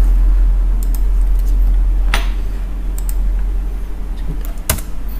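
Keys on a computer keyboard are pressed during a PowerPoint lesson: a handful of sparse, separate clicks over a quiet, steady room hum.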